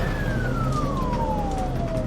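An Australian ambulance siren on a lights-and-sirens emergency response, a loud wailing tone sweeping steadily downward over constant road and engine noise.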